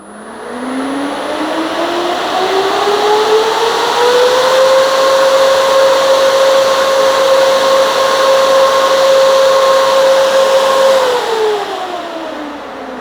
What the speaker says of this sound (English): you can tell when the fan starts. It doesn't immediately start to max RPM like most brush fans do.